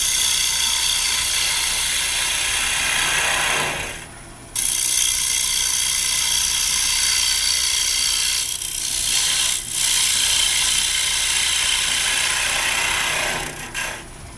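A round carbide cutter takes a scraping cut into a wooden bowl on a woodturning lathe, making a loud, continuous, harsh rasping that runs the whole time, with brief dips where the cut pauses.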